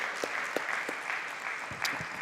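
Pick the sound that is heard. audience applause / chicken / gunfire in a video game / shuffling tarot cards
audience applause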